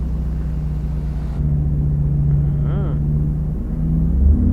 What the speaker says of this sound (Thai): โอ้โห เสียง เสียงสุดยอด กับ Mercedes-Benz นะครับ